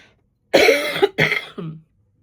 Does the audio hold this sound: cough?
yes